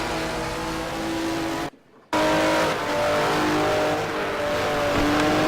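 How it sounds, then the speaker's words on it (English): A Ferrari GT4 from a historic-cars mod in a racing video game, climbing Mont Ventoux, its engine droning and revving loudly with shifting pitch, cut by a brief silent gap before the roar resumes. "I'm in the Ferrari GT4, and Evan is in the Ford Capri 3100 RS"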